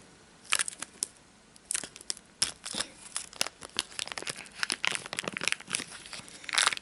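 Crinkling and rustling of a small plastic Ziploc baggie holding homemade air dry clay, close and fairly quiet, in irregular bursts of crackly handling with short pauses between.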